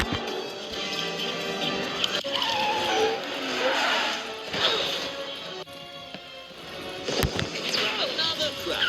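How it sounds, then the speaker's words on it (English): Race cars crash on a downhill hairpin course, with a loud burst of impacts and skidding rising over a busy mix of engines, music and a commentator talking throughout. "Another crash."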